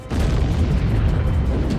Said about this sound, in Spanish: La bomba, que se probó aquí hace 70 años, convirtió la noche en día